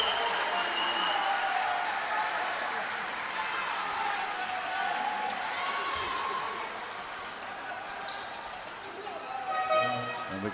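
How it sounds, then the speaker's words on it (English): Crowd at a basketball game in a sports park, applauding and cheering loudly in a sustained roar that eases slightly toward the end, with a commentator's voice over it. "The crowd at the sports park absolutely love it."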